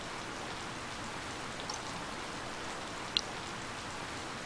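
Steady rain falls in the farming game Harvest Moon: Light of Hope, a soft, even hiss that continues unbroken, with one small click partway through and no voices.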